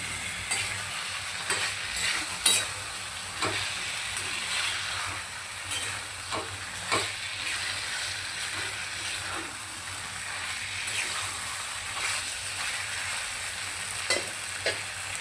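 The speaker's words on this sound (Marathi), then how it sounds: "चिकनला पण आपण आता मसाल्यामध्ये परतून घेऊया." Chicken pieces sizzle and fry in masala for a dhaba-style chicken curry, with steady frying hiss and repeated scraping stirs of a spoon against the pan, close and continuous without talk.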